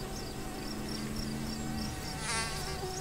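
Several mosquitoes whine with a thin, continuous high-pitched buzz, close and persistent, swelling briefly near the end.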